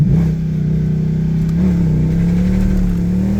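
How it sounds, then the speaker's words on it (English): A Mercedes E63 AMG with its 518 hp 6.2L engine in a race start launch gives off a loud, sustained engine drone that holds steady and rises slightly, close and continuous throughout. "So we turn off traction control, turn this over to race start, paddle up,"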